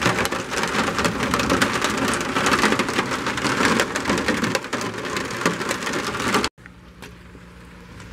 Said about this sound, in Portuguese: Já está chovendo desde cedo